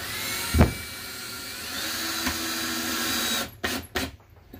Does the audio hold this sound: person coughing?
no